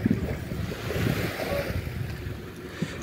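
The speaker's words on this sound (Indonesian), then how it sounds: "Ya, gelombangnya luar biasa." Waves on a reservoir with fish cages wash and churn continuously, mixed with gusty wind buffeting the microphone, with a small knock or two near the end.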